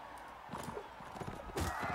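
Horse hooves clip-clopping in a quick rhythm as a rider gallops in Mount & Blade Warband, fairly faint with game noise and scattered impacts around them.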